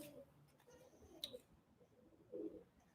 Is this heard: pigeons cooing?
yes